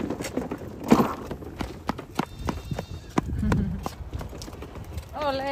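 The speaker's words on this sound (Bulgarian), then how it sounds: "Оле, козлетата, виж ги как бекат." Young goats at a zoo park: a short wavering bleat comes near the end, following a stretch of clattering hoof-like knocks and shuffling outdoor noise.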